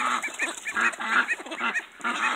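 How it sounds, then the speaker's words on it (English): A young Cayuga duckling peeps in a steady run of high, closely spaced calls, near and fairly loud, with no talking. "it's still got the peep of a little duck"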